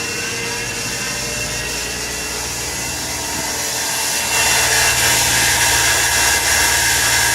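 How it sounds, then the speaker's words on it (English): A CNC machine cuts out a shifter mounting bracket for a quarter-scale ProStreet Beretta, giving a steady mechanical whine and hum that grows louder partway through and runs without talk. "all set up over here now to actually cut that shifter mounting bracket out now"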